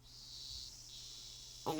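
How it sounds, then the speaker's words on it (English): Cicadas in the Higurashi When They Cry video game, a steady high shrill chorus in a quiet schoolyard scene, holding evenly before a brief louder noise cuts in at the end. "The cries of the cicadas echoed in the quiet schoolyard."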